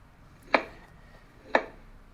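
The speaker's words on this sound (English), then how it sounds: "Which one of the ingredients is she chopping?" Two sharp knife chops on food ingredients sound in a cooking game, evenly spaced about a second apart, crisp and close against a quiet background.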